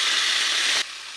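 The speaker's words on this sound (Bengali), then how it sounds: "তেল গরম হয়ে গিয়েছে, শুকনো লঙ্কা ফোড়ন" Dry red chillies tempering in hot oil, giving a close, loud, steady broadband sizzle that cuts off sharply near the end, leaving a quieter hiss.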